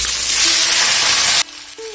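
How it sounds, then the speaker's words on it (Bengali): Cauliflower florets and potato pieces sizzle loudly in hot oil with bay leaves, dried red chili and cumin, the hiss cutting off sharply partway through to a faint, quieter simmer. "ফুলকপি আলুটা ভাজা হতে হতো"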